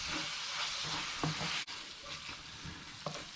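Ground beef fries in a pan for Chilean empanada filling, a steady close sizzle with a few light stirring scrapes and no talk.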